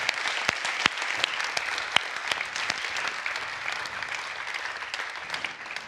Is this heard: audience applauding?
yes